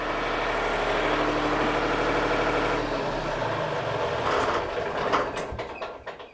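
A small marine genset engine idles at 1500 RPM with no load, a loud steady low rumble and drone close by, fading into clattering mechanical noises and a few sharp knocks near the end.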